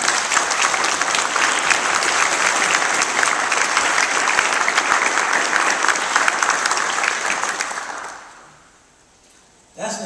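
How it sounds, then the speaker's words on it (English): An audience applauds a Freedom Rider at a civil rights history talk, with loud, sustained clapping from a crowd that fades out near the end before a brief final burst. "Let's give him another round of applause."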